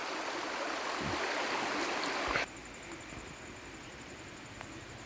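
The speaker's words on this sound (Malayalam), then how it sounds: "നമുക്കൊരു തോട് ഇത് വറ്റിയില്ലാത്ത തോടാണ്" Rushing water of a perennial stream by a nutmeg plantation, a dense steady hiss that is louder at first and then drops to a softer, even murmur.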